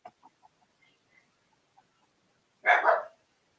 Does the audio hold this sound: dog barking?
yes